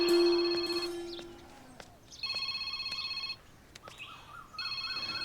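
A phone's electronic ringtone sounds for an incoming call, repeating a melodic pattern in several bursts at moderate level against faint room noise.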